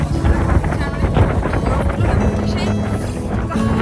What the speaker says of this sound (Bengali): মানে এত হাওয়া দিচ্ছে।